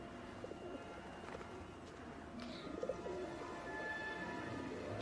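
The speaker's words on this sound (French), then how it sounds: "Les pigeons viennent sur vous parce qu'ils vous aiment beaucoup." Pigeons coo softly nearby, a few low throaty calls and faint chirps over a quiet outdoor background.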